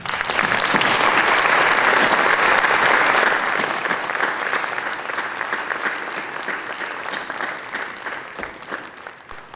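An audience at a neighbourhood New Year's wishes ceremony in Aix-en-Provence applauds, a full, sustained round of clapping that is strongest at first and then slowly thins and fades, with a faint crowd murmur beneath.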